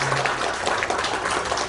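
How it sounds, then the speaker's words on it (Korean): Audience applause at a National Assembly policy forum on carbon neutrality and carbon-free energy, held in a members' office building hall; steady, dense clapping from a seated crowd fills the whole moment at moderate loudness. "여러분 따뜻한 박수로"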